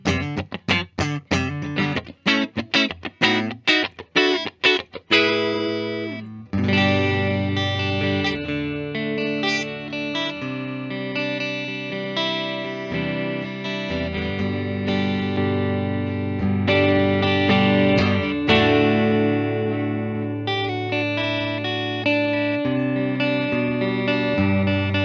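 An Epiphone Les Paul Alex Lifeson electric guitar with its neck pickup coil-split, playing close and steady with a quick burst of picked notes, then long strummed and sustained chords with effects and distortion.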